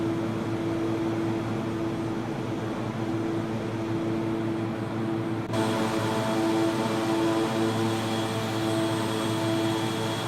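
Turboprop engines of a King Air C90B in a flight simulator game, a steady droning hum with constant broadband rush that brightens in tone partway through, with no voices.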